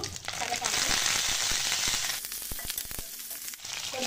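Curry leaves hitting hot oil in a tempering of cumin and dried red chillies, a loud burst of crackling sizzle that spits and pops sharply, then settles into a lighter, intermittent frying crackle.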